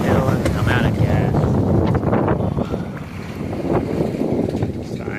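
Steady, loud wind rushes past a Cape Dory 25 sailboat under both sails, with gusty buffeting and a water wash beneath it throughout.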